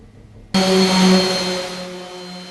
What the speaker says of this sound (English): So I'm going to sand off this primer, weld on some studs, and start pulling.